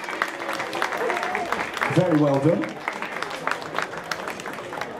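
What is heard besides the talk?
applause for cosplay contestants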